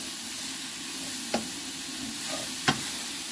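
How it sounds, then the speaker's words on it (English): Onions, mushrooms and bacon sizzle together in a pan without oil, a steady frying hiss with two sharp utensil knocks against the pan. "Let the onions, the mushrooms and the bacon cook together."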